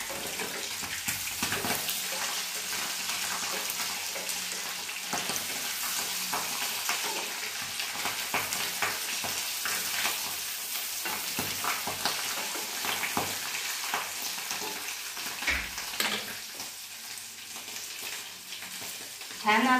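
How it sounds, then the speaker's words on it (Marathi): Potatoes frying in oil with a little salt, a steady crackling sizzle broken by stirring and scraping in the pan, with watery bubbling throughout and no speech. "बटाटे असे छान लालसर तळून घेऊ"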